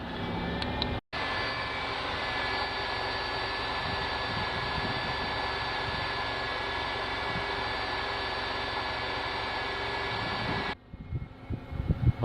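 A 1997 Oldsmobile LSS engine idling after a fuel pressure regulator replacement, a steady, even broadband roar and hum close by that cuts out abruptly near the end, leaving a few clunks.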